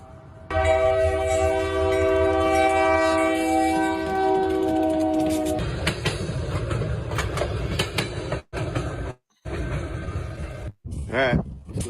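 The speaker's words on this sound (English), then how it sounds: "Here comes the train." A train passes over a penny and a dime left on the railroad tracks: a loud, sustained horn blast, then heavy rumbling and clattering wheels close by, with brief gaps and a voice talking near the end.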